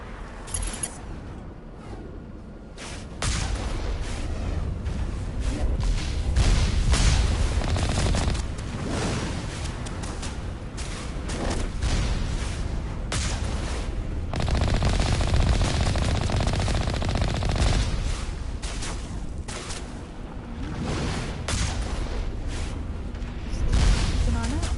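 Gunfire rattles in the video game Mass Effect: dense, repeated automatic bursts and booming shots that carry on almost without a break, with a voice talking over the shooting throughout.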